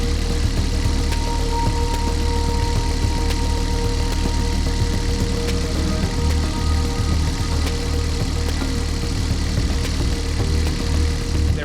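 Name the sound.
sailboat engine running with revs increased at the dock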